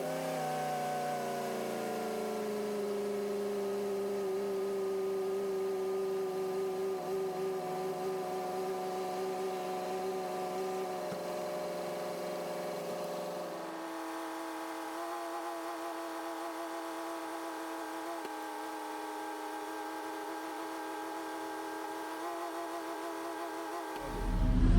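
A Chevrolet Trailblazer SS truck idles steadily during a brake fluid flush, a constant mechanical hum with a slight shift in pitch partway through and a brief rise at the very end.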